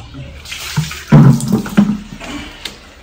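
Water gushing out of a household pipe, also used for a washing machine, comes as a splashing rush with a few louder surges partway through, close by and with no talk.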